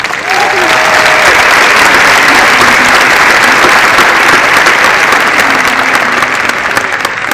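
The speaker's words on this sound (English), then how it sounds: "Let's give them a round of applause." Sustained, loud audience applause fills a high school graduation ceremony hall, dense steady clapping from a large crowd that continues without pause throughout.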